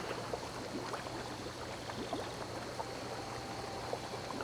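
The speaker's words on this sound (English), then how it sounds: "the bubbling sound effects right now, that's like the sound of my stomach" Steady bubbling water effects in Disney Dreamlight Valley gurgle and trickle continuously at a moderate level, with small pops scattered through an even wash.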